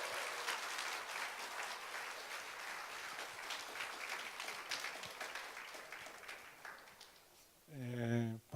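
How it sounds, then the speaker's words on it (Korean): A church congregation at a Friday evening service applauds to welcome a pastor, a sustained, fairly soft wash of clapping that tapers off before a voice begins speaking at the end. "박수로 한번 환영해 주십시오."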